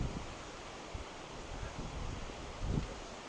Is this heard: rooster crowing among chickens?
no